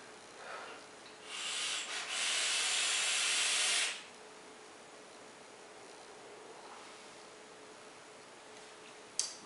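A vape draw on a Copper Buddha RDA built with thick wire gives a soft rising hiss lasting a few seconds, then a quiet room with a faint tick at the end.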